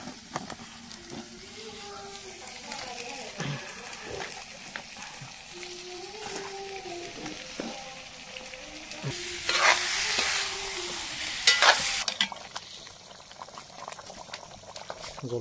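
Duck meat sizzles in a pan with pumpkin and potato. Soft frying hiss and intermittent stirring scrapes run under a faint voice, and a louder burst of sizzling and stirring comes near the end.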